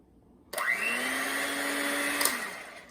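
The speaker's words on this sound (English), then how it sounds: "So now we're gonna be whisking. This is how you use it." After a brief quiet start, an electric whisk or mixer switches on and whirs loudly and steadily while egg whites are beaten for French macarons, with a small rattle near the end.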